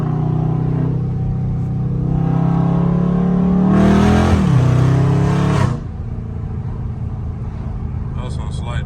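A loud Dodge Scat Pack idles with a deep, rough rumble, then its engine rips into a hard rev pull that climbs in pitch for about two seconds before cutting off abruptly and settling back to a lower burble.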